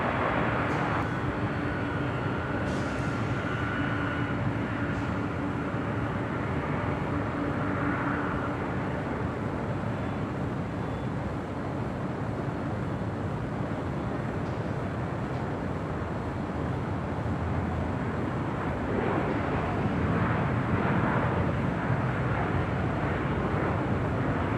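A Boeing 737 on short final to runway 25 left at LAX makes a steady, broad engine roar that holds at a moderate distance and swells slightly toward the end, with no voices.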